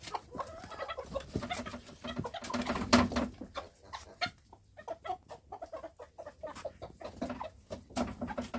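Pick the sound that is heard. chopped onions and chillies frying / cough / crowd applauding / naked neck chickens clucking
naked neck chickens clucking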